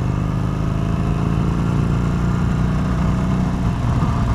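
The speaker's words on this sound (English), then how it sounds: "Definitely need to keep the revs up on this bike." A 2020 Harley-Davidson Sportster Iron 883 engine runs at a steady low rumble, a throbbing mid-pitched drone held at constant revs with no voices.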